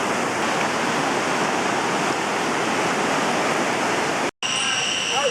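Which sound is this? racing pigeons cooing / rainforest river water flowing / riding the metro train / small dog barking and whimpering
rainforest river water flowing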